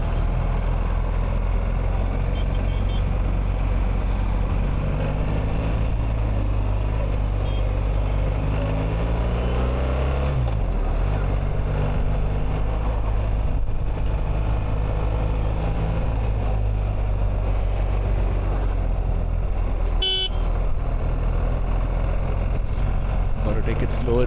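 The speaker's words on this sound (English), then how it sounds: "Now you can hear the bike's engine." A BMW R 1300 GS motorcycle being ridden on roads near Bangalore, its engine a constant loud drone blended with heavy wind and road rush, with a rise and fall in pitch midway and a brief sharp noise near the end.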